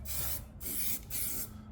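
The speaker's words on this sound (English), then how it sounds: "I'm going to spray just a light coat of sand deadener" Short bursts of aerosol sound deadener sprayed in a light coat, three close hissing blasts separated by brief pauses, loud and without talk.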